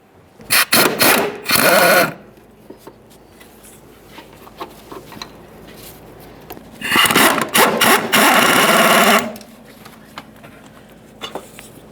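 A power tool runs in two loud bursts, taking out the 17mm-headed upper shock mounting bolts on a 2011–2021 Jeep Grand Cherokee 3.6L V6. The whirring impact-gun runs are separated by a quiet pause, with some clinking of hardware.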